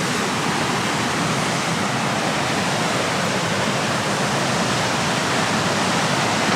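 The Rogue River rushing past a natural rock bridge in the morning, a steady, dense roar of flowing water that holds at an even loudness throughout with no voices.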